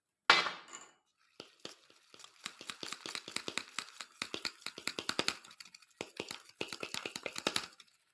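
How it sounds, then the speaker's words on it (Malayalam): Beetroot juice mixed into whipped egg white in a bowl, heard as a rapid run of light clicking, tapping strokes of a whisk or spoon against the bowl, close and fairly quiet, with brief pauses. "ഇനി ഇതിലേക്ക് നമുക്ക് ബീട്രൂട്ട് ജ്യൂസും കൂടെ ഒഴിച്ച് നല്ലപോലെ ഒന്ന് മിക്സ് ചെയ്യാം"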